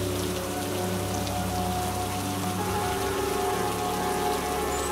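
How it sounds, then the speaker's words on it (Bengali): Heavy rain pours steadily outside at night near a cremation ghat, a dense, even drumming on surfaces that continues without pause. "বাইরে মুষলধারে বৃষ্টি হচ্ছে, বৃষ্টির সাথে বিদ্যুতের ঝলকানি।"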